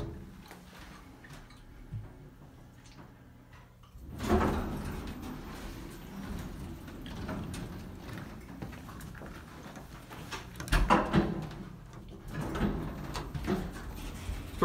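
A Schindler elevator door at a country club in Pittsburgh, Pennsylvania slides shut with a soft rumble and a few clunks, followed by quieter mechanical bumps in the cab and no talking.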